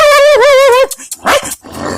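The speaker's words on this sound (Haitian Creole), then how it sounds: "C'est un gros chien men, un gros chien." A big dog gives a long, loud, drawn-out howling bark with wavering pitch, followed by shorter rough barks and huffs, close by.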